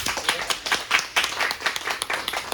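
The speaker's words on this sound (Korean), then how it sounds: "그러면 뜨거운 박수로 네," A small audience claps warmly to open a poet's book talk, loose and uneven individual claps forming light applause that keeps going throughout.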